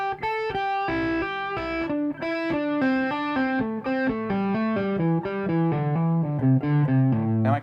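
Electric guitar playing two scale sequences slowly, a steady run of clean, sustained single notes stepping up and down one after another at a moderate, even loudness with no talking.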